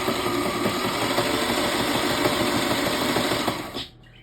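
A sewing machine stitches a one-liter water bottle bag, a steady rapid mechanical whir with a rhythmic needle chatter, close and loud, stopping abruptly near the end.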